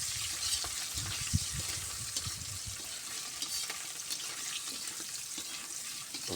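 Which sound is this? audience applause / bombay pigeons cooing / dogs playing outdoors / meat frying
meat frying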